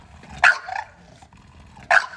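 A large bully-type dog barks twice indoors, each bark loud and close, about a second and a half apart, with quiet room noise between.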